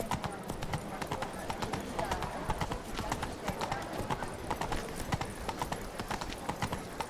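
Roach the horse's hooves clip-clop at a rapid, steady rhythm in The Witcher video game, close and prominent, with voices talking over the hoofbeats.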